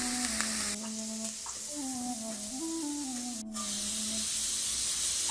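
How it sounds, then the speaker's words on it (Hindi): Onions frying in a pan give a steady broadband sizzle and hiss that runs the whole time, with a voice speaking over it and one brief sharper crackle midway. "अब हमारी प्याज फ्राई हो रही है। हम प्याज को भूनेंगे जब तक कि ये कलर थोड़ा डार्क हो जाए इसका।"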